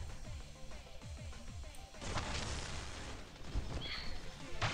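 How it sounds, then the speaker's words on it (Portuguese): Machine-gun bursts in the Soul of Eden mobile card battle game, a loud continuous clatter of rapid impacts and explosions that swells after the first couple of seconds and keeps rolling under game effects. "Vamos usar isso aqui, rajada de metralhadora."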